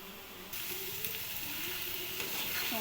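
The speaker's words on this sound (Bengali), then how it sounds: "আমার মেয়ের জন্য একটু লাল শাক ভাজি করে নিচ্ছি" Red amaranth leaves (lal shak) frying in a pan give a steady, close sizzle that steps up louder after the first half second and holds an even crackling hiss throughout, with no voices.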